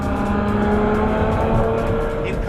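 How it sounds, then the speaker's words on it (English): A Ferrari FF's engine and exhaust roar steadily under acceleration on the road, a continuous loud drone heard close and alone. "The first thing you notice on the road is that incredible exhaust sound."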